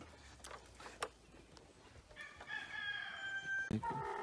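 A rooster crows in the distance, a drawn-out call rising and falling over faint outdoor background noise, with a few soft clucks nearby.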